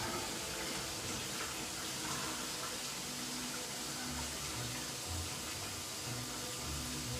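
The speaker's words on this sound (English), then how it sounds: "I'm gonna drain this in the sink, and I'll show you how to oil it up." Hot pasta water poured from a pot into a kitchen sink, a steady close rushing gush of water running the whole time without talk.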